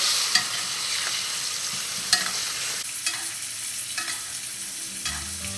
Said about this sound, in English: Now I'm sort of just gonna roast the steak a little bit.